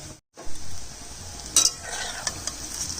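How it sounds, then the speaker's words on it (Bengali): Potato pakoras (aloo ji) sizzle steadily as they fry in a pan, a continuous crackling hiss broken by a brief silence early on and a few louder spits and stirring clinks. "আগেরটা ভাজা হয়ে গেছে, আবার দিলাম।"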